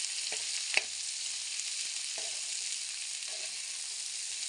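Sliced okra and onions fry in a pan with a steady, even sizzle. A few soft knocks from stirring break through the hiss at irregular moments.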